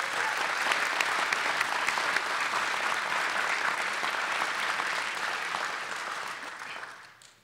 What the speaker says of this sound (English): Let's have a round of applause for our friends and families.